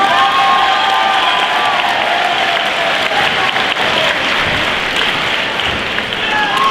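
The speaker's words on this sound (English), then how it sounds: "how about another round of applause for" A crowd at a school celebration applauds loudly and continuously, with scattered cheers and shouting voices mixed into the dense clapping throughout.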